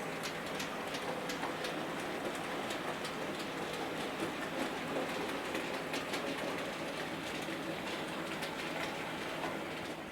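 Hornby Class 08 model diesel shunter locomotive running along model railway track, a steady close whirring rattle with faint rhythmic clicks, alone with no talking.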